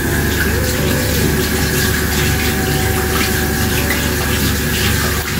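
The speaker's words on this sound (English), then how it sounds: "You have to wash your hands with soap." Water runs steadily from a tap in a loud, continuous rush, with faint shifts suggesting hands moving under the stream.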